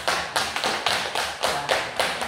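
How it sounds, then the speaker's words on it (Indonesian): Students in a classroom clap in steady unison for a group after its poster presentation, about eight crisp, evenly spaced claps in quick rhythm, fairly close and with no talking. "terima kasih ya tepuk tangan buat kelompok"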